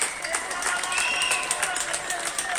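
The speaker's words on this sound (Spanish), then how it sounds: "Los vecinos aplaudiendo desde los balcones." Neighbours applaud from balconies outside Hospital Sant Joan de Déu in Martorell, Barcelona, with steady distant clapping and a voice talking over it.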